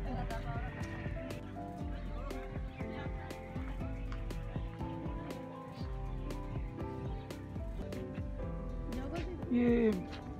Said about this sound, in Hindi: ये हॉर्स है ना घोड़ा,